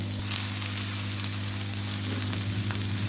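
Finely chopped medium onion sizzling in half a cup of hot oil in a kadai, a steady close frying hiss throughout with no talk.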